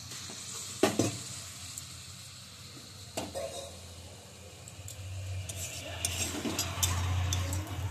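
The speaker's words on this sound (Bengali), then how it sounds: "এবার দিয়ে দিচ্ছি বেটে রাখা মশলা। অল্প একটু জল দিচ্ছি।" Ground spice paste with a splash of water sizzles in a pan, a soft, fairly quiet frying hiss broken by a couple of sharp utensil knocks and scraping stirs, growing a little louder toward the end.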